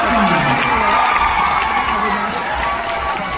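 A large audience at a Suphanburi stage performance cheers and applauds the writer-director and production company, a loud, dense wash of clapping, shouts and children's whoops that stays steady throughout.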